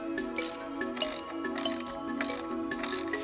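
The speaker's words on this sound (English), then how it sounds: "Use a 1/2-inch socket wrench or box end wrench to secure the frame in the opening." A half-inch socket wrench ratchets steadily while fastening a TOTO in-wall toilet carrier frame into a wall opening, giving a close, continuous run of clicking and metallic clinks with no talk.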